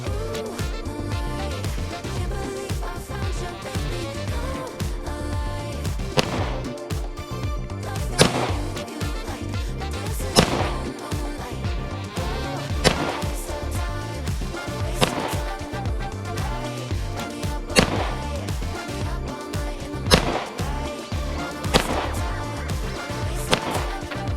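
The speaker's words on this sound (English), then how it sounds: "So now we'll shoot with our original APX." Pistol shots from an original Beretta APX, a series of sharp, loud single cracks spaced a couple of seconds apart over a dense, steady background din, fired at a shooting range.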